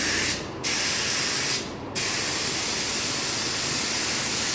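Black water-based paint sprays onto a semi truck radiator in a loud, steady hiss, cut by two brief pauses near the start before running continuously.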